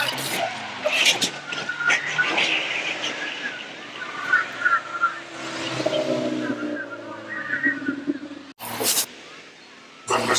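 Stock cars race around an evening track, engines droning and rising at a distance under a commentator's talk, with a few sharp bursts and a sudden cutoff near the end.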